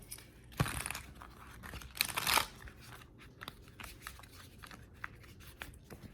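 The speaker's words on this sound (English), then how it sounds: "I'm going to shuffle some cards." Tarot cards are shuffled close to the microphone in two louder riffling bursts, then softer scattered taps and rustles of cards being handled, with no talk.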